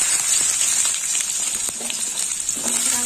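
Sweet potato pieces fry in hot oil with dry red chilli and mustard seeds, making a constant close sizzle with a few soft pops and light clinks.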